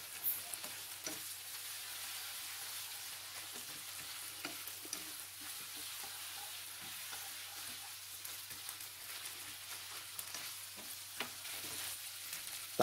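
Spaghetti with dried chili and a splash of water is stir-fried in a pan in a Thai-style kitchen, giving a steady, close sizzle broken by frequent soft scraping ticks from the stirring, with no talking.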